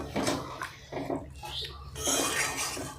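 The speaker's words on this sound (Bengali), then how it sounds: "অল্প পরিমাণে এবারে এতে জল দিতে হবে। জল দিয়ে আর একটু ভালো করে ফুটিয়ে নিতে হবে।" Water poured into chicken kosha curry cooking in a pan gives a few splashing, bubbling bursts under a steady hiss of the hot pan, with a person talking over it.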